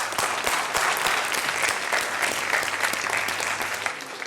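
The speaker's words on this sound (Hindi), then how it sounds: "तालियां दीजिए प्लीज." A children's general knowledge TV quiz audience gives a sustained burst of clapping, dense and steady throughout before easing slightly at the end.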